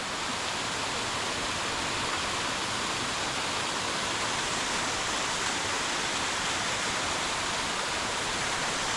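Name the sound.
twin waterfalls near Hoosac Tunnel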